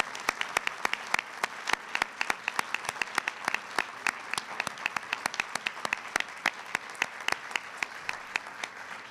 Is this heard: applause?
yes